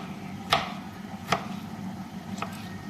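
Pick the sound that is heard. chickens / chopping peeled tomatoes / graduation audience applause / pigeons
chopping peeled tomatoes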